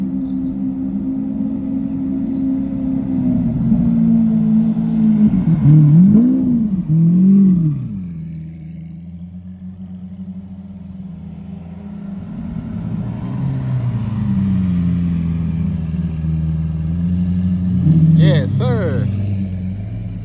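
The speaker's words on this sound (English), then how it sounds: "I think I hear the Lambos or a Lambo." A Lamborghini engine at a cars and coffee meet gives a deep, steady rumble with a couple of quick revs rising and falling, loud and close, with people talking nearby.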